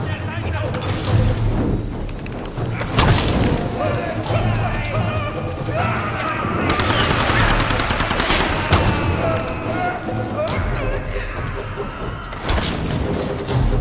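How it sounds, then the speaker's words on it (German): Gunfire in the video game Tomb Raider on PS3, with a dense stream of shots, bursts and booms over a rumbling action soundtrack, while a player talks over it. "Wo kam der Schuss?"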